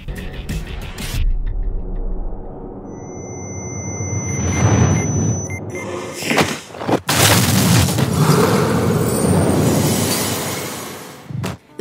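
A loud blast tears through a judge's office in a Korean TV drama, a sustained roaring explosion with crashing debris and sharp bursts that swell and rumble on for several seconds.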